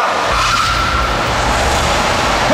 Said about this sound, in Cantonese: 香港隊同埋中國隊就會喺呢度嚟一次100米嘅短途直路加速賽